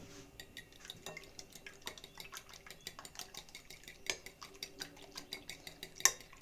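Two eggs with pepper and a small pinch of salt being beaten with a fork in a bowl, a fast run of light clinks and scrapes against the dish, close and fairly quiet, with no talk.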